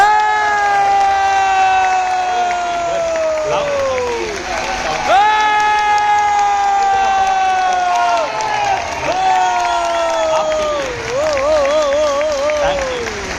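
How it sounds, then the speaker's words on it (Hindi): A large audience at a business leaders' motivational seminar claps and cheers loudly and continuously, with rising and falling whoops and shouts carried over the sustained applause. "आप लोगों के लिए लेवल 100, लेवल 1000 जितनी ऊर्जा से तालियां बजा सकते हैं अपने लिए बजा दीजिए।"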